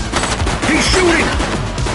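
Gunshots ring out in the police video game The Precinct, a short loud flurry of shots mixed with game effects and a brief voice.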